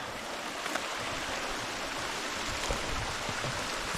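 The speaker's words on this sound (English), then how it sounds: "another waterfall." A waterfall in a San Bernardino canyon rushes as a steady, dense broadband roar, unbroken throughout and with no voices.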